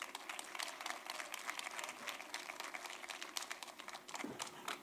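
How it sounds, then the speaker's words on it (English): Faint, distant audience clapping at a college conference event, a thin scattered patter of hands heard at low level throughout, with no voices over it. "Let's please give a round of applause for Dr."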